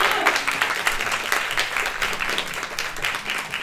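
A crowd at a live show applauds steadily, many hands clapping in a dense, continuous patter at moderate distance.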